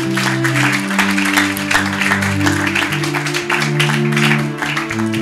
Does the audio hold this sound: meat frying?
no